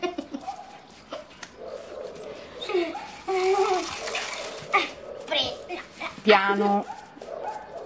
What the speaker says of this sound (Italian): Non la far abbaiare, dai.